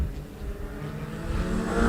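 A race car engine after a misfire repair runs under load on an oval track, a dense, continuous roar that builds slightly over the brief stretch with no voices.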